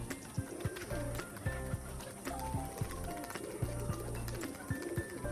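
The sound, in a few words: pigeons during tumbling flight display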